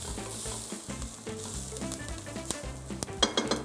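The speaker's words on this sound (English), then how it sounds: "And again roast it because the herbs make the taste." Herbs roasting in a hot pan give off a continuous close sizzle, with scraping stirs and crackling pops that grow sharper toward the end.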